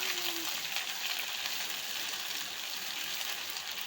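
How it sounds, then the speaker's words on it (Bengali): Garlic paste drops into hot oil with dried red chilies, cardamom, cloves and bay leaves, giving a loud, steady hissing sizzle that holds evenly throughout, close and unbroken. "এতে রসুন বাটা তুলে দেবো।"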